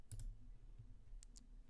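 Computer mouse clicks, a quick close pair followed by another pair a moment later, faint and sharp against a quiet background.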